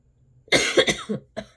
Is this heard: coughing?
yes